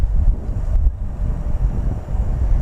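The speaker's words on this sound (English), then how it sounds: "plus it's still a little windy" Steady wind buffets the microphone at an outdoor RC jet flying field, a continuous low rumbling roar with gusty swells, no voices.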